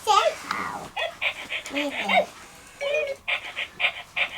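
A person imitates a dog with short repeated woofing and whimpering sounds during play with a small child, voiced in uneven bursts with brief pauses.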